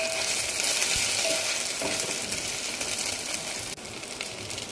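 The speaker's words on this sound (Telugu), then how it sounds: "ఒక గ్రీన్ మిర్చి, 2 స్పూన్ ఆయిల్ వేసి లైట్ బ్రౌన్ కలర్ వచ్చే వరకు వేగనివ్వాలి." Green chili frying in two spoons of oil in a pan gives a steady, dense sizzle that crackles throughout, with one brief clink near the end.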